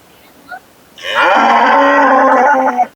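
A cow at a cattle market gives one long, loud, close moo lasting nearly two seconds, after brief fainter animal sounds over low crowd background.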